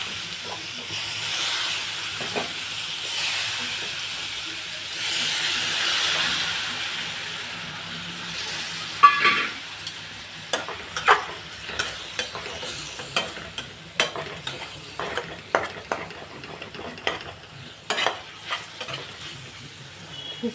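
Bitter gourd stir-fries in a pan after a sprinkle of water, opening with loud steamy sizzling hiss that settles into a quieter fry punctuated by repeated sharp scrapes and knocks of a spatula.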